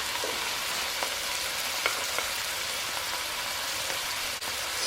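Chopped red pepper, onion and minced garlic fry over medium heat, giving a dense, even hiss of sizzling oil with faint scattered pops, steady throughout and free of voices.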